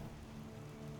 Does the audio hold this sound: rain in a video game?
yes